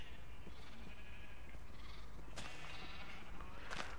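Sheep in the video game Minecraft bleat faintly amid a dense steady background wash, with a couple of brief bleats standing out over about four seconds.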